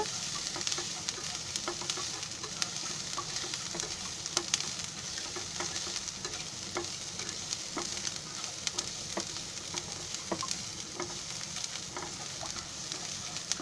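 Ginger and garlic roast in a pan before coconut goes in, a soft, steady sizzle with scattered small crackles and the odd stir, fairly faint and uninterrupted throughout.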